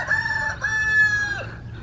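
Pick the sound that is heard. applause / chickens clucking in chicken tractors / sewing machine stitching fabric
chickens clucking in chicken tractors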